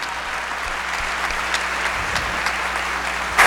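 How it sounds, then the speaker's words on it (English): Teachers receive a sustained round of applause at a school board meeting: a dense, steady wash of many hands clapping that holds at an even level throughout, with no speech over it. "Let's give all of our teachers another final round of applause"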